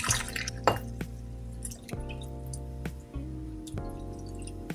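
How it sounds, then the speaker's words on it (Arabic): Cold water pours and trickles over chili peppers in a container for pickling, a close bubbling, dripping stream with a few clinks as the vessel fills, no talking. "وتندير عليها الماء اللي يكفينا"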